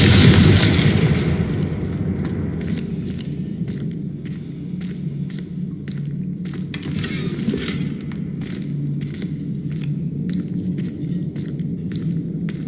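Confringo blasting spell in the video game Hogwarts Legacy: a loud burst at the start that fades into a low rumble, followed by a string of sharp ticks and crackles over a steady droning game background.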